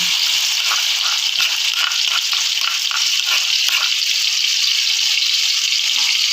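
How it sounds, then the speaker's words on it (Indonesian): A bright, steady sizzle of ground spice paste frying in hot oil fills the clip, with soft scraping and stirring mixed in. "Lalu kita tumis-tumis ya teman-teman ya, seperti ini"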